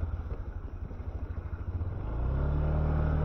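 A 110 cc petrol motorcycle climbs a steep slope, its engine pulsing at low revs, then opening to full throttle into a steady, loud, rising drone.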